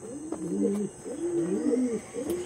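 A Niladama female pigeon coos in three rolling, looping phrases close by, with steady low-pitched calls and no voices over them.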